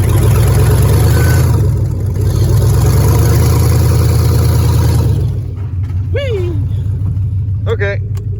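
An old yellow GMC truck with a 4.8 engine running in four-wheel drive: a loud, steady low engine drone up close that eases slightly partway through, with a person talking over it.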